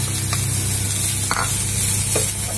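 Coriander stems fry in a pan for chutney with a close, steady sizzle, broken by a few soft stirring scrapes, and no talking.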